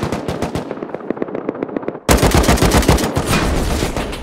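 Rapid automatic gunfire in the video game Rust, a fast rattling stream of close, loud shots that swells into a denser, harsher burst halfway through.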